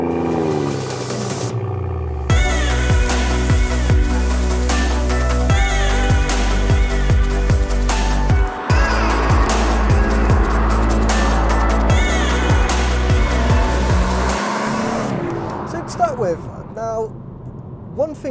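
A 2018 BMW M140i drives with a deep engine note that rises and falls through gear changes, loud and close from inside the car, and a person talks over it throughout.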